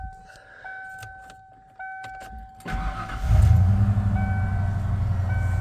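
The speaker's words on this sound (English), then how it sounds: "Go ahead and fire her up." A 1995 Ford Bronco XLT 4x4 starts up: faint clicks and key sounds, a brief cranking, then the engine catches and settles into a loud, steady idle rumble close by.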